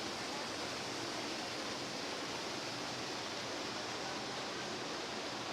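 Hotitsa waterfall in Bulgaria in September produces a steady, even rush of falling water, a soft broadband hiss heard from a distance with no other sounds breaking through.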